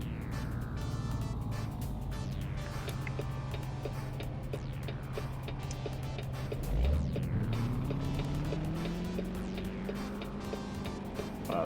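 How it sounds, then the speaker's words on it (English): A car passing on a highway in a truck-driving simulator, its engine note rising and sweeping past near the end against a steady cab drone and faint ticking. "did you hear that car?"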